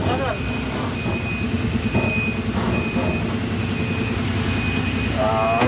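A large tractor trailer reverses with a steady, high electronic beep repeating at an even pace over a loud, rumbling diesel engine, while people talk nearby.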